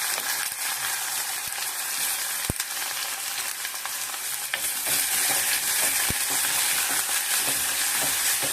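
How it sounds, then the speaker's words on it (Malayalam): Mustard seeds and curry leaves sizzle in hot oil in a clay pot, a dense continuous hiss with occasional sharp pops and clicks, close up and without speech. "കടുക് പൊട്ടി കറിവേപ്പില ഇട്ട് ഇനി"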